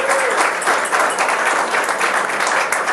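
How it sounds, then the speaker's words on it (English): Steady applause from an audience at a school headmaster's evening social, a dense, even wash of clapping holding throughout. "I think that deserves a round of applause"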